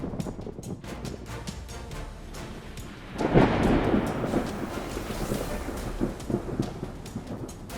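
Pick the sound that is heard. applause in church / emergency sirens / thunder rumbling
thunder rumbling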